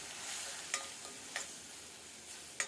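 Curry leaves sizzling in hot oil with garlic for a Maharashtrian dahi kadhi tempering, a faint even hiss broken by a few sharp stirring clicks.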